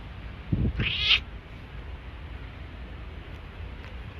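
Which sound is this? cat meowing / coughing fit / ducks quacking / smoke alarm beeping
cat meowing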